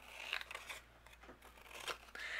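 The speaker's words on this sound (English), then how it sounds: "I'm going to use my scissors and trim around it" Scissors snip around a paper sentiment with a purple border for a handmade card, a quick series of close, quiet crisp cuts with paper rustle between them.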